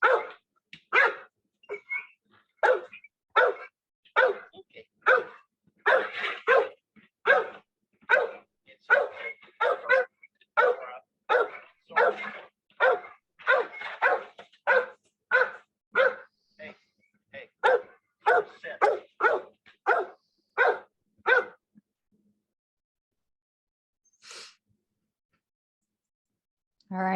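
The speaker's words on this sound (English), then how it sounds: "the barking starts intermittently and then becomes more constant" A dog barks in sharp, separate bursts at first, then fires them off faster and more steadily in a long close run before falling quiet, with a brief high yip near the end.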